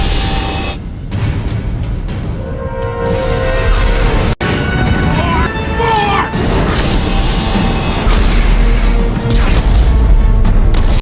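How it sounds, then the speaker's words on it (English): An explosion from the Collector ship battle in the video game Mass Effect 2, heavy booms and crashing debris layered with music and sweeping effects, loud and continuous. "We suffer some damage from the explosion"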